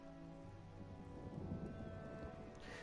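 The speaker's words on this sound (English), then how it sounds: "The pattern on these storms seems eerily familiar." Storm in the video game Elder Scrolls Online: quiet, steady rainfall patters on surfaces, with a soft low rumble rising briefly in the middle like distant thunder.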